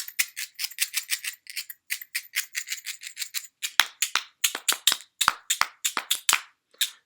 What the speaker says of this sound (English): I found this little jar, this old jar that used to have spices in it, and I filled it with a little bit of rice